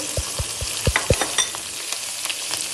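Loud, steady sizzling of oil in a hot pan as asafoetida and spices are tempered, with a few low knocks near the start as something is stirred in.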